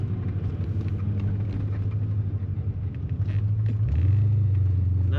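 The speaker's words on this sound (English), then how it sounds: "Nice rumble to this car." A 1984 Chevrolet Corvette Z51 coupe rumbles from inside the cabin while driving, a steady low engine hum that rises in pitch near the end as the revs climb.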